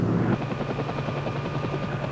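An Army helicopter arrives, its rotor drone loud and steady with a rapid chop running throughout, no voices over it.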